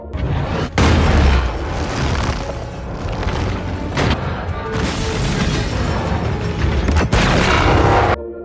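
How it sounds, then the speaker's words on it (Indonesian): A missile explosion strikes a helicopter in a giant-robot action film, dense booming blasts and rumbling impacts layered with sharp bursts across the whole stretch, loud and continuous. "Sebuah ledakan misil mengenai helikopter Mako dan membuatnya kehilangan keseimbangan."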